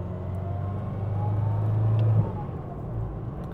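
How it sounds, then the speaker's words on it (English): A car engine with a turbocharger hums steadily and rises slightly in pitch, with a faint turbo whine building as it accelerates, then eases off, in cool morning air. "I can hear the turbo this morning."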